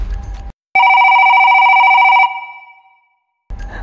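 An old-style telephone bell rings loudly for an incoming call, one sustained ringing burst of about a second and a half that decays into silence, with muffled sound before and after.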